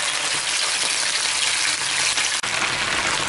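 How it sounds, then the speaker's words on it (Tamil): Prawns frying lightly in hot oil for a spicy prawn masala, a steady, even hiss and crackle throughout, close and moderately loud, with no talking. "சும்மா லைட்டாக போட்டு பொரிச்சிட்டு எடுத்துடலாம்."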